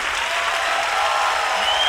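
A studio audience breaks into steady applause with cheering, a dense wash of clapping that holds at even loudness throughout, close and unbroken with no talking over it.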